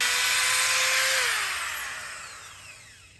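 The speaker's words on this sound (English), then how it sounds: "when you're drilling holes into brick and concrete, you're gonna need to put your back into it just a little" A power drill boring into brick gives a loud, rough grinding whir that drifts down in pitch and fades away over a few seconds, with no voices present.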